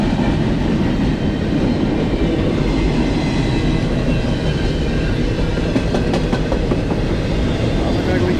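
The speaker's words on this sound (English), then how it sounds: "We got some auto racks at the rear of this double stack train." A BNSF double-stack freight train with auto racks at the rear rolls fast past at close range, a loud continuous roar of wheels with steady clickety-clack and faint metallic squeal over the whole stretch.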